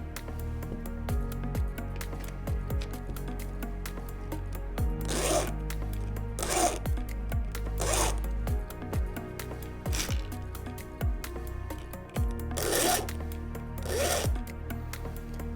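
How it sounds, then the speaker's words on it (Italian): A chainsaw chain's teeth being sharpened with a file, metallic rasping strokes repeated at a steady pace with several louder scrapes, close by and without speech. "Questa operazione va eseguita su tutti i denti della motosega da un lato e dall'altro."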